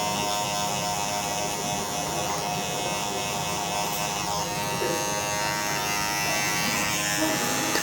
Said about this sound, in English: We're going to go through and clean up just on the neckline, just with the clippers to keep it all nice and detailed.